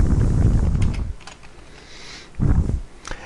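Close computer keyboard typing in two short bursts of keystrokes, separated by a quiet pause, with no talking.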